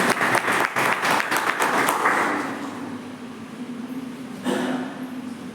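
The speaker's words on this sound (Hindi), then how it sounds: "जोरदार तालियों से इनका स्वागत" Loud audience applause welcoming the head of a college political science department, a dense burst of clapping that thins and fades toward the middle, then swells briefly again near the end.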